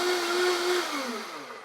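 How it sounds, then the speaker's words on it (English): A blender purees fresh strawberries in its jar, a loud whirring motor whose pitch drops and slows as the fruit breaks down, heard alone and close. "And now let's go ahead and blend it to a puree."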